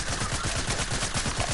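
Rapid gunfire spammed in a video game, a dense, loud, rhythmic burst of repeated shots filling the whole moment, close and continuous with no talk.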